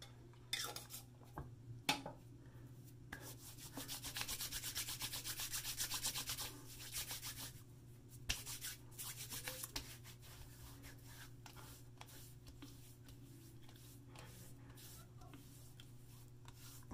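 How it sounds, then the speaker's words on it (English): Hands rubbing lime pre-shave lotion together and onto the face and neck, soft close skin-on-skin swishing strokes in a longer stretch around the middle, with a few light taps and no talking. "work a small amount between hands and apply to neck and then face"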